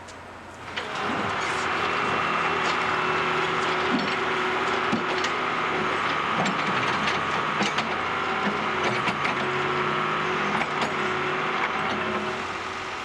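A backhoe grinds and scrapes into frozen permafrost ground, a dense continuous mechanical rumble with repeated knocks and clatters throughout, moderately loud and steady with no voices.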